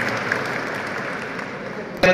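At a school felicitation ceremony, part of a Mulyavardhan closing event in Ahilyanagar, an audience claps in a dense, steady round of applause that ends in a sharp burst of sound.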